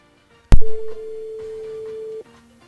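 A sharp click, then a loud, steady electronic telephone tone holds for nearly two seconds before dropping to a brief lower tone.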